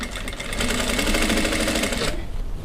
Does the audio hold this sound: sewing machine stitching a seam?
yes